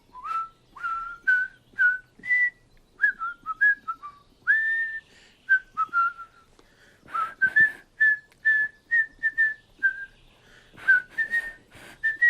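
A person trying to whistle, producing a string of short, wavering, breathy notes in uneven bursts with pauses between.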